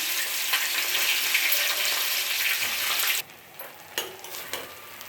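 Chicken pieces for mandi biryani fry in hot oil with a loud, dense sizzle for about three seconds, then the hiss drops away to quieter crackles and a few clinks.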